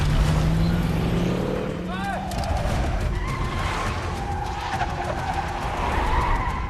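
A truck driving in the Netflix film Troll: loud, continuous engine and road rumble with a sharp tire squeal around the middle, in a dense cinematic mix.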